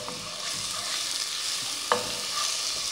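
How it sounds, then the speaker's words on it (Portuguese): Onion and garlic browning in a pan for brown rice with carrot, a steady close sizzle with stirring scrapes and one sharp utensil knock near the end, no voices. "Agora eu vou dourar um pouco essa cebola e o alho"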